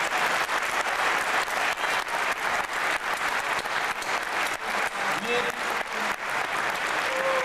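Sustained applause from an audience at a 1996 La Sghiarola stage show fills the whole stretch, dense and steady, with a few faint voices rising through it.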